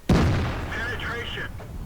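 A heavy tank's main cannon fires once in a tank video game, the T57 Heavy, a loud sharp boom up close that decays into a rumbling tail, followed by faint game effects.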